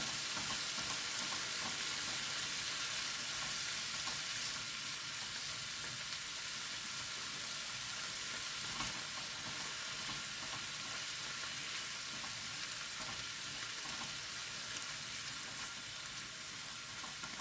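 Food sizzles steadily in a Carote frying pan as a silicone utensil stirs it, a dense, even hiss that holds throughout with no talking.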